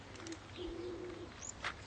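A pet bird gives a few soft, low coos close by, with brief chirps and light rustling near the end.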